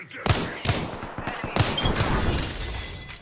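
Gunfire in the Apex Legends battle royale game: several sharp shots spaced over the first seconds, followed by a continuing dense rattle of combat sound, fairly loud throughout.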